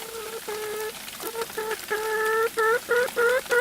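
A broody hen sitting on her eggs close by gives a run of loud, drawn-out squawking clucks in short bursts, with brief pauses between them.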